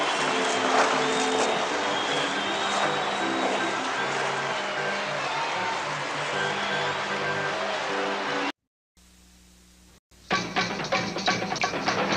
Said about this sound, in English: They're getting a good round of applause from their own booster club, who have traveled all the way from Charlestown to be here in Peterborough tonight